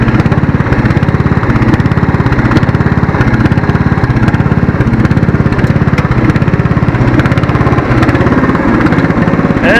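A Craftsman lawn tractor's engine runs loud and close in reverse gear, a steady rapid chugging drone with no pause throughout.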